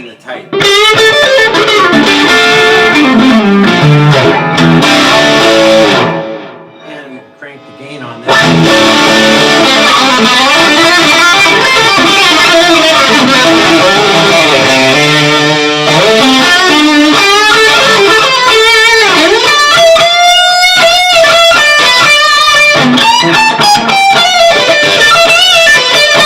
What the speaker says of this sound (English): The sort of traditional fizziness that you get and you want on a distortion pedal.